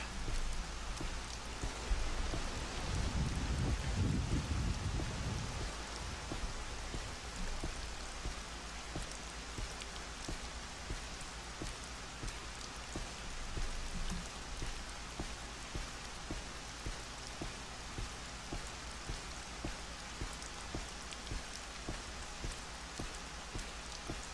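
Rain falls in the video game Morrowind, a soft, steady hiss of drops under a faint low ambience, with a brief louder rumble early on.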